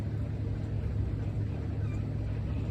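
A farm harvester drives through a wheat field after rain, cutting very short wheat about 8 cm tall with no ears. Its engine gives a steady, loud, low rumble that carries on without a break.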